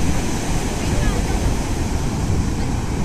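Waves washing in at high tide on a beach near Mangalore, a steady, dense roar of surf with wind noise and no clear breaks.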